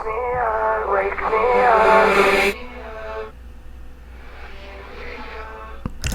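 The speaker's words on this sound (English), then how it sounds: "that's just the whole reverse reverb thing" Music with a swelling, smeared vocal processed with a reverse reverb effect that builds and cuts off abruptly, followed by a softer washed-out tail and a brief click at the end.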